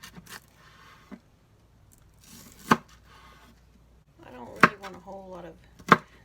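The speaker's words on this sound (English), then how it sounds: "This is the wrong knife for me to cut onions." A knife chops onions on a board for homemade coleslaw. About five sharp, separate chops fall at uneven intervals, with quiet pauses between them and a brief tonal squeak partway through.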